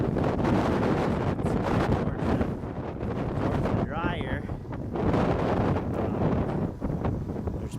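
Strong wind gusts buffet the microphone outdoors in blizzard-like conditions among snow drifts, a loud continuous roar, and a voice talks briefly under it.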